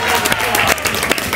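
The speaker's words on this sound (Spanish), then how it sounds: "Un aplauso para mí." Audience applause and crowd noise at a live Spanish comedy show, a steady burst of clapping filling the whole moment, loud and close.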